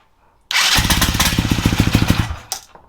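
A small-engine drift trike starting up: a sudden loud catch, then a rough, rapidly pulsing mid-range putter that revs unevenly for a couple of seconds before cutting back, close and alone.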